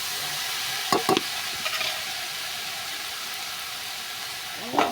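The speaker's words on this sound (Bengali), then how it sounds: "দিয়ে দিলাম একটু হলুদ, দিয়ে নাড়াচাড়া করে আমি ঢাকা দিয়ে দেবো" Leafy greens stir-fry in a pan with salt and turmeric, a steady hissing sizzle broken by a few sharp scrapes and clatters of stirring.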